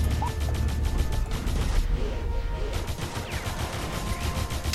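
Gun turrets being built in the game Defense Grid 2, a run of ratcheting mechanical clicks and clattering gear sounds, moderately loud with a short quieter gap in the middle, with no talk over them.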